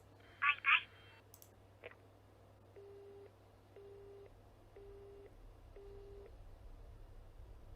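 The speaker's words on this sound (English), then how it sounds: "With that, the line disconnects." A phone line goes dead in the video game You and Me and Her. After a short blip of voice, four evenly spaced busy-signal tones repeat over a low steady hum.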